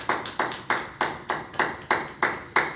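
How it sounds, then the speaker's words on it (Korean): Steady rhythmic clapping from a church congregation at a Korean Wednesday worship service, about nine even claps in under three seconds, close and clear with no talking. "우리 하나님께 모든 영광의 박수를 올려드리겠습니다"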